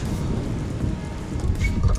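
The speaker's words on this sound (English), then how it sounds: "It is raining outside," Steady rain falling outdoors, a constant dense hiss and patter, fairly loud and continuous with no voices.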